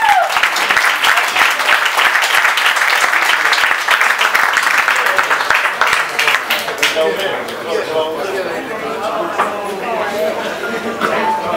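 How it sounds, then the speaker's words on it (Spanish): Loud audience applause at a poetry reading night, dense clapping for about six seconds that then fades as a voice begins speaking over room ambience. "Un aplauso para ella."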